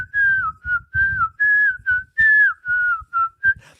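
A high-pitched jaw harp plays a short, clear whistle-like melody in separate sliding notes, each with a buzzing twang underneath, close and alone with no talk.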